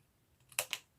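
Scissors snip white paper scraps twice in quick succession, two crisp close clicks in an otherwise quiet room.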